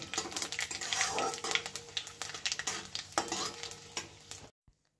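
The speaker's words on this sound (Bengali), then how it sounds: "চারটে শুকনো লঙ্কা দুটো তেজপাতা আর হাফ চামচ পাঁচ ফোড়ন একটুখানি ভেজে নেব" Dry red chillies, bay leaves and panch phoron fry in hot mustard oil in a wok, giving a steady close crackling sizzle with stirring scrapes that stops abruptly near the end.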